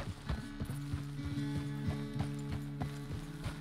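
Horse hooves clip-clopping in Red Dead Redemption 2 on a ranch, a quiet, steady walking rhythm of clear hoof strikes over a soft, constant background hum.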